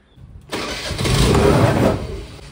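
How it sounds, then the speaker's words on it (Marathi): A TVS Jupiter scooter, left unused for about fifteen days, fires up on its electric self-start after a quiet pause, its small engine catching at once and settling into a close, steady idle with a slight swell in revs. "एकदा सेल्फ मारला आणि चालू झाली गाडी"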